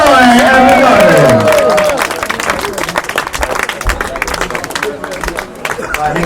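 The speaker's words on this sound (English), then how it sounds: "Round of applause, please, for Roy the Boy." An audience applauds and cheers for a speaker at a speeches event, loud clapping and crowd noise that rise after music fades out and continue steadily to the end.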